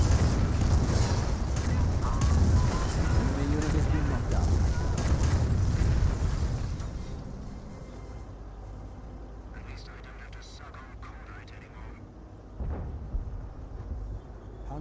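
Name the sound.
Sherman Calliope rocket artillery barrage in Company of Heroes video game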